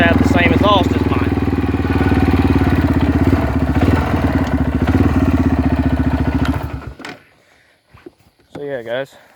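A 1997 Yamaha Timberwolf ATV with an aftermarket exhaust idles loud and close, a steady throbbing engine note that cuts off abruptly near the end. Someone speaks briefly afterward.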